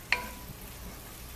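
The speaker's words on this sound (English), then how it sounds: "So we're just going to go ahead and saute these in here." Green beans sautéing in a pan with rice wine vinegar give a soft continuous sizzle after a brief bright clink near the start, close and quiet.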